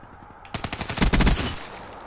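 Automatic weapon fire in a Black Ops 3 first-person shooter match, a single sharp burst of rapid shots that swells loud and close for about a second, then trails off into quiet.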